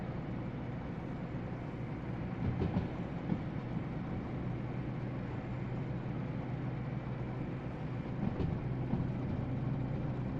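Steady low rumble of a freight train rolling along rails in the video game Derail Valley, a continuous droning hum with a couple of brief clunks, no voices.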